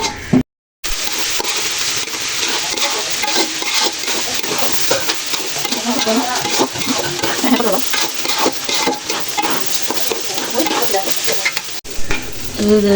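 Rice for pulao is stirred and fried in a pan, giving a continuous crackling sizzle with repeated scraping stir strokes throughout, close and fairly loud after a brief dropout at the start.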